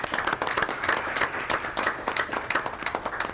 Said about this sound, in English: I would appreciate if you all applaud for our brave military men and women.